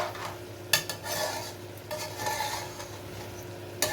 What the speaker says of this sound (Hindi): उसको आप चम्मच से उसको फोड़ेंगे, उसको तोड़ेंगे ताकि उसके बीज मसाले में शामिल होकर